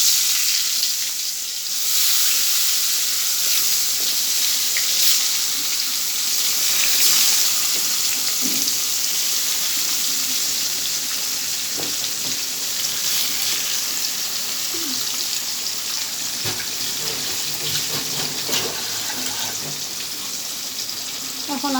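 Pangas fish fry in a hot wok with a continuous loud sizzle and hiss throughout, broken by occasional faint clinks and stirring sounds.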